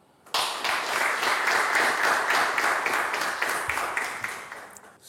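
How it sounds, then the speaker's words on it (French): Applause from a quiz-show audience, a dense burst of many hands clapping that starts abruptly and holds steady and loud, fading slightly toward the end. "Merci de l'applaudir."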